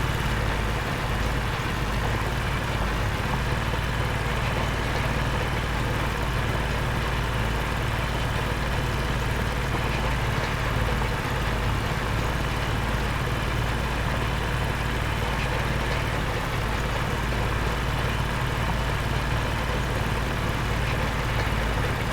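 Tractor engine running in Farming Simulator 25, a steady low, loud idle-like rumble that holds continuously without change or talk.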